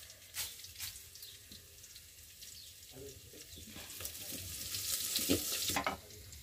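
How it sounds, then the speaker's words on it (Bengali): Onions and green chillies frying in oil on a village clay stove, a steady sizzle with scraping stir sounds and occasional clinks, growing louder toward the end, with no talk. "পেঁয়াজ ভেজে নিছে, পেঁয়াজ কাঁচামরিচ এখন ভালো করে কষানো হবে।"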